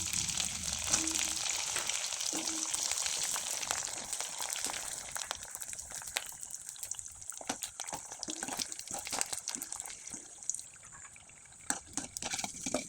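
Potato papad frying in hot oil, a steady close crackling sizzle with scattered pops, continuous and alone without talk.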